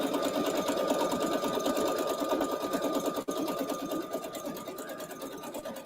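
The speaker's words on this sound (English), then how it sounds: "My bobbin sound like it's doing something crazy." A sewing machine stitches quilt blocks while its bobbin makes an odd noise, a steady, fast mechanical whirring and ticking that runs continuously, with one brief dip midway.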